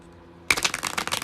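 Tarot cards are shuffled close up after a brief near-silent moment, giving a crisp burst of rapid riffling flutters and soft papery slaps that continue to the end, with no talking.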